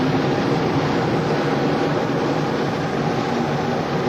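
A car's engine cooling fan keeps running on a stalled car, giving a steady, close broadband whooshing whir with no talk.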